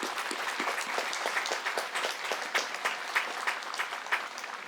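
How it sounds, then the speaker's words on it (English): Applause honoring school board members at an outdoor military institute graduation ceremony, a sustained, fairly distant patter of many hands clapping with light pulsing, no talk over it. "Give them a round of applause too, please"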